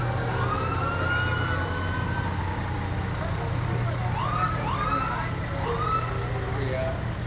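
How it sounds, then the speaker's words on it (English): Emergency vehicle siren at a homecoming parade, rising and falling wails with short yelps sounding over a steady engine rumble and crowd noise, people talking nearby. "we need some siren"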